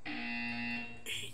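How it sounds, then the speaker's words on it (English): A single electronic buzzer from the Portal 2 video game sounds as a steady, clear tone for about a second, then cuts off abruptly. "You will hear a buzzer."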